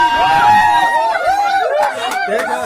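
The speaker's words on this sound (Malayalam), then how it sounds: "പിന്നെ ആരവങ്ങൾ കേട്ടത് നിങ്ങൾക്ക് മനസ്സിലാവും" Hostel friends cheering and shouting at a birthday celebration, a loud excited crowd of young voices with chatter and laughter close by.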